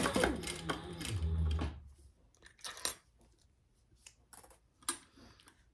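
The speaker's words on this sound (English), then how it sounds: "I'm going to chain stitch those, just basting them onto the D-ring" A sewing machine runs in a short burst, chain stitching bag straps onto a D-ring, fairly close and fairly loud, then stops, leaving scattered faint clicks and handling noises.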